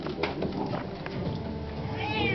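A house cat climbing onto a chair meows near and plaintively over soft room noise, with a drawn-out cry near the end.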